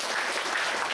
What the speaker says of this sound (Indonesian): Kita kasih tepuk tangan yang paling meriah dulu untuk Pak Suroyo